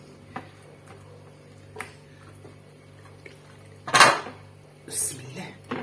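Chicken marinade of spices, turmeric, salt and a little water being stirred in a bowl, heard as a few scattered clinks and scrapes of utensil against dish, with one louder clatter near the end, over quiet room tone.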